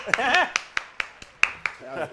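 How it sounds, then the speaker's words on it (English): A handful of sharp, separate hand claps from a small live-stream audience at a DFW shed session, scattered irregularly and sounding close, with people talking over them. "Y'all clap it up for him one time"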